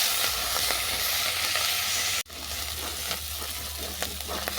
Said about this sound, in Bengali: আর দিলাম লঙ্কার গুঁড়ো। এটাকে ভালো করে কষিয়ে নেব।